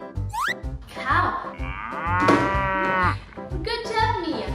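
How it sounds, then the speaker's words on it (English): Cartoon cow mooing in a children's farm-animal learning game, several loud drawn-out moos with harmonic rises and falls, cut by short thumping beats and springy effects, no talk over it. "Cow."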